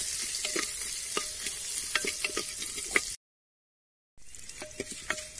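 Chilies fry in a pan for a village-style herbal rasam, a close crackling sizzle with sharp spatula stirs and scrapes, cut off by a second of silence before the frying and stirring pick up again.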